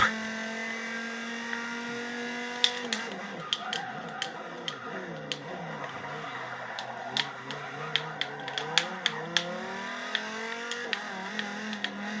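A GT LM race car in the Forza 6 racing game drives with a steady engine drone, pitch sliding as it shifts and corners, sharp ticking clicks scattered over it.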